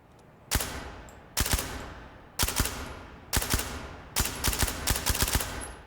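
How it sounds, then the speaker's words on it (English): An SD6 submachine gun in the video game Ready or Not fires full auto in five short bursts, each a sharp cluster of suppressed shots followed by a brief pause, the last burst longer. "But it is full auto, which the SD6 I thought had a trigger group of semi and 3-round burst."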